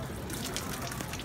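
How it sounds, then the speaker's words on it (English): Water from a tap runs steadily over the handle of a ladle as it is rinsed, a soft continuous splash lasting about a second at moderate distance. "And you rinse the handle."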